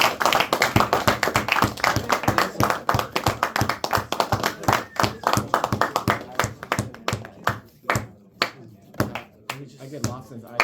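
A classroom of students claps for a classmate named Anthony, with close, sharp individual hand claps in a rapid patter that slows and scatters toward the end, voices murmuring underneath.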